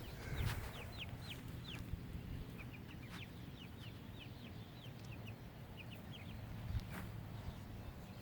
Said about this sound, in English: And here's my baby chicks. I got a new flock coming up.